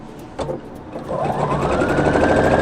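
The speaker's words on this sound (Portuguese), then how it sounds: "E vou passar uma costura de fora a fora." A sewing machine running a straight seam across a dish towel, starting after a few handling clicks and settling into a steady close whirring hum.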